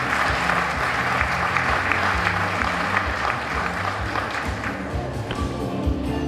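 A crowd at a teacher of the year celebration claps loudly and steadily, a dense wash of applause with a low music bed running beneath it.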